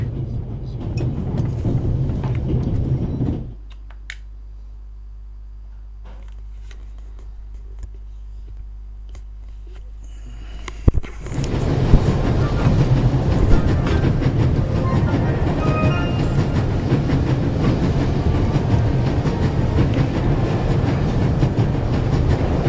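In the video game The Raven Remastered, a train runs at full speed with a loud, steady rumble and rolling rail clatter; a brief quieter stretch drops into a low hum before a sharp clunk brings the roar back.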